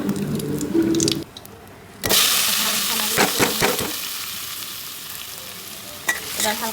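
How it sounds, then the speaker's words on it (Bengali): Vermicelli (semai) lightly frying in a pan, with a muted start and then a sudden bright sizzle and crackle, followed by a few stirring scrapes and taps, close up and without talk. "হালকা একটু ভেজে নিচ্ছি এগুলো, থেকে ফ্লেভার বের হবে।"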